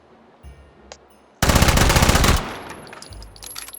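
A single loud, rapid burst of automatic gunfire from a compact, very high fire-rate gun in the VR shooting game H3VR, lasting about a second amid otherwise quiet surroundings.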